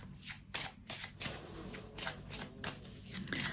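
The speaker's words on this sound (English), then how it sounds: "I'm going to pull a journey card to support the reading" Oracle journey cards are shuffled by hand in a quick, steady run of close papery riffles and slaps, then pulled from the deck, with no talking.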